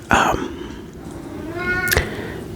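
A pet cat gives two distinct meows, one short near the start and another drawn-out cry about two seconds later, close and clear over a quiet indoor background.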